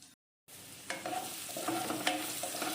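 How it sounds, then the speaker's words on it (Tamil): After a brief silent gap, finely chopped garlic and ginger sizzle in hot oil, a steady frying hiss with occasional stirring scrapes, close and moderately quiet. "இஞ்சி பூண்டு நல்லா ஃப்ரை ஆகிற அளவுக்கு வதக்கிக்கலாம்."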